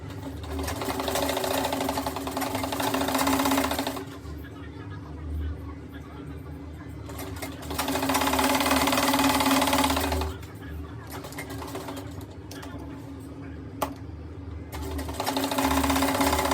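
A sewing machine stitches down the side pocket of a pair of trousers. It whirs loudly and close in two long runs with quieter handling between them, and talk can be heard underneath.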